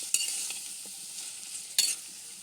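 Okra stirred and fried in a pan, where a faint hiss of frying runs under two brief, bright spatula scrapes, close by and without talk.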